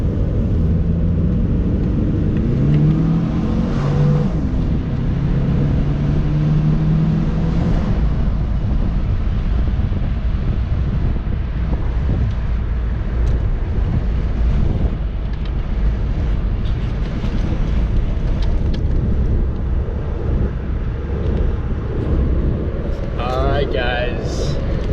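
A Saab 9-3 being driven on a road test, a steady loud rumble of engine and road noise with wind buffeting throughout, no distinct gear changes, and faint clatter near the end.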